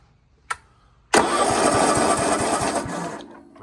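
A Homelite 10XL chainsaw is pull-started without the choke: a brief click, then the engine catches and runs with a loud, buzzing rattle for about two seconds before dying away.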